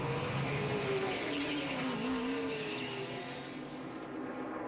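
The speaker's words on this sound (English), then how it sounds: "So the first group of 5 cars now making their way back out, and they have to stay together" NASCAR race cars at the 2010 Amp Energy Juice 500 pulling away down pit road, a group of engines rising and sweeping in pitch before easing off, under a steady crowd and track roar.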